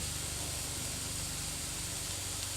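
Rice and vegetables stir-fry in a pan in a school kitchen, a constant soft hiss of frying with a low steady hum underneath and no clear stirring hits.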